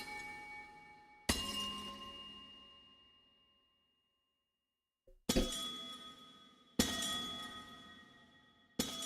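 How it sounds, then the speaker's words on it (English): Crystalline amethyst clusters shattering in Minecraft, four separate glassy breaks with ringing chime tails, the first decaying slowly into a pause before three more in fairly quick succession. "Amethyst cluster break."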